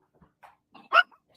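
A dog barks and yips indoors in a few short, scattered bursts, ending in one loud, sharp bark near the end.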